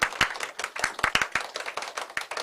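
A room of audience members at a live talk event with young social workers clap together, a dense, steady patter of many hands close by that keeps going without a break.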